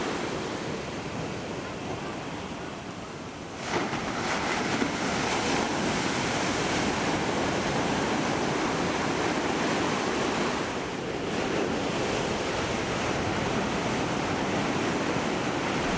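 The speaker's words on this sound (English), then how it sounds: "The following morning we are visiting the beach of Ipanema" Ocean surf at Ipanema beach in Rio de Janeiro, a steady, loud wash of breaking waves mixed with wind rush, with a swell of heavier breakers partway through and no voices.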